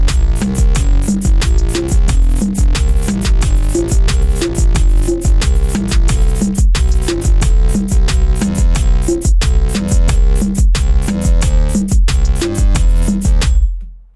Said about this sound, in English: So here's what the drums and the bass sounds like.